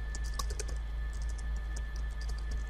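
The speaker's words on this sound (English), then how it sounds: "and just type something in there" Computer keyboard typing in Civil 3D, a quick irregular run of light key clicks, close and clear over a steady low electrical hum.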